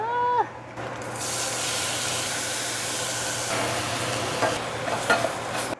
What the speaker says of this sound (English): I'm gonna start over with the sauteing and add the mushrooms in